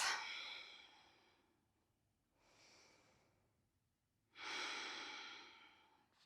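Slow, audible breathing during a pause in a teen yoga session, with three breath sounds: a strong exhale at the start, a softer breath in the middle, and another long airy exhale near the end, close and otherwise quiet.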